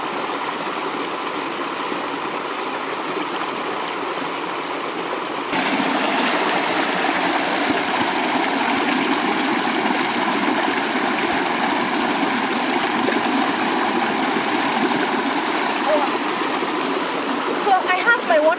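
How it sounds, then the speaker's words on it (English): Steady rushing water runs throughout, growing louder partway through, like a pot being rinsed under a flowing stream, with faint clinks near the end. "you have to rinse your pot"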